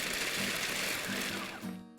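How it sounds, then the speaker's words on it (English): A food processor grinding walnuts, almonds and pistachios, a close, loud, steady whirring buzz with a faint rhythmic chop. The motor winds down and stops near the end. "Getting my walnuts into the food processor, my almonds and the pistachios."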